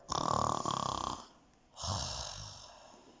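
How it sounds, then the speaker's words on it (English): A loud, rasping snore, then a softer second breath, close and alone in a quiet room. "Just then she heard a loud snore."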